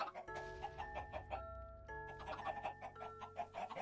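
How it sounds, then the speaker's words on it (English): Chickens in Minecraft cluck in quick repeated bursts over a steady background tone, with a short break partway through, faint and close. "I need to kill these chickens, otherwise they're gonna take over the world"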